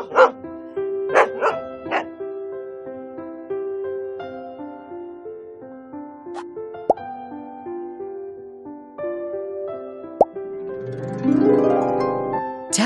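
A small cartoon dog barks in several sharp, high yips near the start, then sustained musical tones carry on with no talking and a brief rising sweep near the end.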